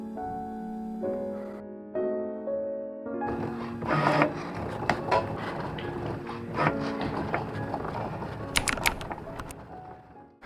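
A printer runs through sticker sheets, opening with steady whirring tones before busier mechanical clatter, clicks and sharp rattles take over, close and continuous with no talking.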